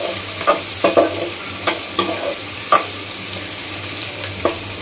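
Chopped onions frying in hot oil with roasted cumin in a pan, a steady loud sizzle with periodic scraping knocks of a spoon stirring every second or so, close and without talk.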